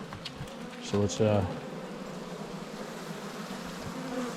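A strong, hungry, aggressive honey bee colony in its hive in winter gives a steady, close buzzing that runs throughout, with a brief burst of speech early on.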